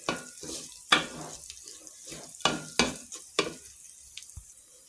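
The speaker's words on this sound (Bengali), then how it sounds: "দেখুন কতটা ঝরঝরে করে আমি ভেজে নিচ্ছি।" Rice grains are fried in a pot for white polao, giving dry scraping stir strokes and soft sizzling in irregular bursts, close and fairly quiet, with no talking.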